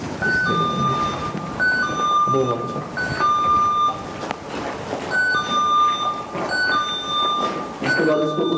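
A motion sensor alarm chimes in repeated short electronic beep patterns at a steady rhythm, loud and close, while people talk over it throughout.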